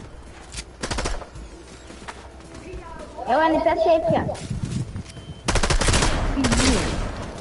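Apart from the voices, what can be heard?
gunfire from NPC in Fortnite video game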